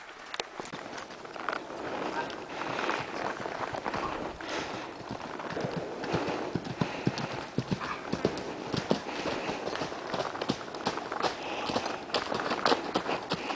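Steady clip-clop of a Percheron horse's hooves on a dirt trail, an even walking rhythm close by with faint rustling around it.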